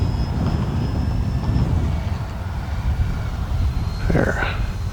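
An E-flite Beechcraft D-18 twin-engine RC model airplane on landing approach gives a steady droning engine buzz with wind rumble throughout, a faint shifting tone passing overhead, and no talk.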